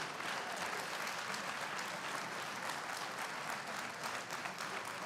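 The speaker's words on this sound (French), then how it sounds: "ça mérite des applaudissements, ça aussi" Audience applause at a French junior archery championship, steady dense clapping from a crowd filling the whole stretch at an even level with no voices over it.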